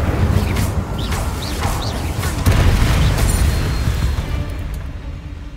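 Incendio fire spell cast in the Hogwarts Legacy video game: a loud, sustained booming roar of fire with bursts and crackle, a surge near the middle, continuous throughout over a dense low rumble.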